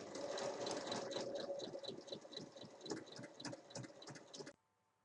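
A sewing machine runs a steady line of topstitching on a fabric book cover, whirring with rapid even needle ticks close by, then stops abruptly near the end.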